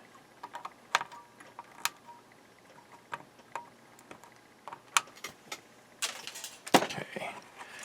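Flush cutters snip excess component leads from a circuit board for a BMW E34/E32/E31 heater motor controller repair: sharp isolated clicks and snaps scattered across the span, a louder cluster near the end, close and otherwise quiet.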